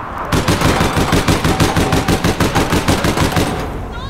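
Rapid pistol gunfire from a shooter video game, APB, following a grenade, with repeated sharp shots in an even burst lasting several seconds, loud and close, then fading out.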